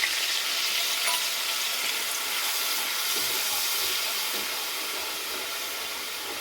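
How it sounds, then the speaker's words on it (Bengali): A pre-mixed spice paste hits a hot pan and fries with a loud, steady hissing sizzle that eases slightly toward the end. "দিয়ে দিচ্ছি আগে থেকে গুলে রাখা মশলার পেস্টটা।"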